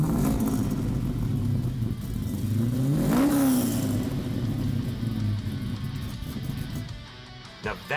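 A 1969 Camaro restomod with a modern LS7 V8 rumbles loudly, revving up once sharply and falling back to a deep, steady burble.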